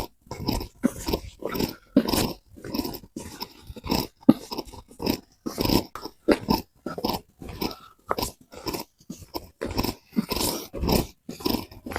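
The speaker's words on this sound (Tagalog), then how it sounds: "Ay, daming aso." Several dogs on a street growling and making rough, crunchy, biting and chewing noises in repeated bursts, close and loud.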